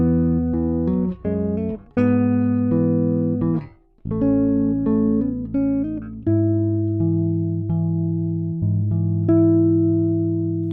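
An Ernie Ball Music Man StingRay Special four-string bass plays a clear solo line of sustained, ringing notes up and down its range, with no other sounds.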